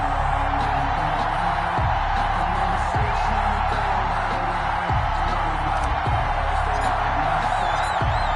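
Stadium crowd noise from an NFL football video game on PS4, Eagles with Carson Wentz in a Week 1 matchup: a steady, dense roar of fans with faint cheers and whoops throughout, no clear talk.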